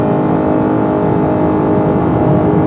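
A 2021 Honda Accord Hybrid accelerates in sport mode, giving a steady, close whirring engine and road drone that holds level throughout with no talking.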